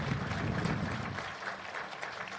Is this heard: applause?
yes